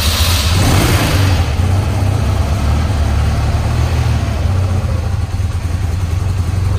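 A custom-base motorcycle, newly arrived, is kick-started with its lights off and then held running, a loud steady engine drone with low rumbling pulses sustained throughout, close by and alone.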